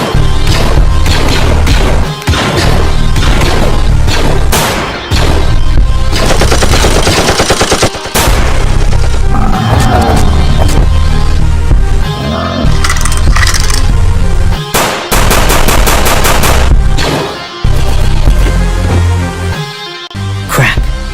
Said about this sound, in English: Open fire on the targets.